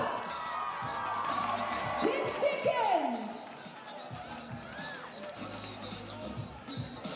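A basketball crowd at an NZNBL game between the Manawatu Jets and the Auckland Tuatara cheers and chatters in a busy arena, with a voice speaking over the steady roar of the fans.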